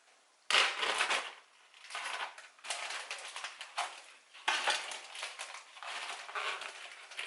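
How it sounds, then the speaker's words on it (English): Small pork belly rib pieces, about two to three inches, tumble into a cooking pot with a loud rattling clatter in two bursts, alone without talk. "So we are just going to throw them into the pot."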